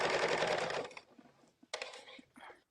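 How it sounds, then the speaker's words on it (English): A home sewing machine starts up loudly at first with a dense whirring burst, then drops to quieter, intermittent short clicks and brief mechanical bursts, heard alone. "Sorry about my machine starting."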